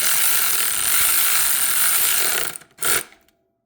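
A ratchet tightening a part on a carbureted Triumph Thruxton 900 motorcycle, a loud dense run of rapid clicks for about two and a half seconds, then a short final burst before stopping.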